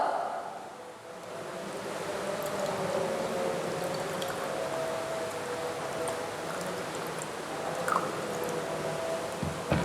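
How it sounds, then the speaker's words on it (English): Water is poured into a glass beaker holding a spoonful or two of copper sulfate crystals, a soft, steady trickling and sloshing that runs for several seconds, quiet and close, with no talking. "Add 1 or 2 spoons of copper sulfate to a beaker, and next add some amount of water."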